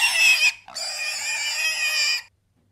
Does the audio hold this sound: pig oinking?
yes